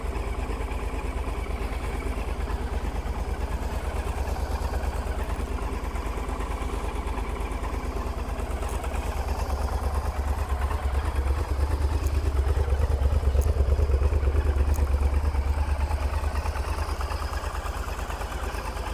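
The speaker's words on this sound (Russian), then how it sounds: "Холодный запуск." A 2003 Honda XL1000V motorcycle engine idles after a cold start, a steady close rumble with rapid mechanical pulsing that swells slightly in revs midway, with no talking.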